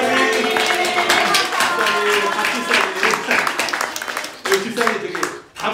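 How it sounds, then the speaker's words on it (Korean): Church congregation clapping for a deacon at a Sunday service, a steady dense burst of applause mixed with voices that thins out toward the end. "우리 박수로 우리 호명하면서 박수 한번 치겠습니다"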